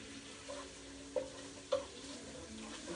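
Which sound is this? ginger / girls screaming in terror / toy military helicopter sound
ginger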